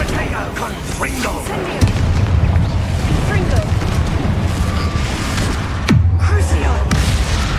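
Confringo blasting spell explosions in the video game Hogwarts Legacy thump loudly in two heavy booming bursts with rumbling low tails, amid busy game sounds, while a voice talks over them.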